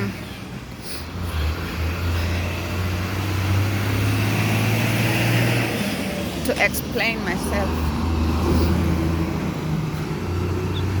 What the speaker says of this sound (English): bear with me about the noise, the traffic noise.